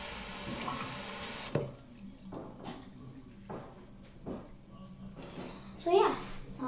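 Tap water runs over a fidget spinner as it is rinsed at a sink, a steady splashing stream at first that gives way to intermittent gushes and spatters, close by, with a voice speaking in the background.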